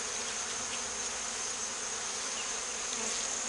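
Honeybees swarm around an opened rogue hive during a removal, making a dense, steady, high-pitched buzz that hangs evenly and close for the whole stretch, with no other sounds standing out.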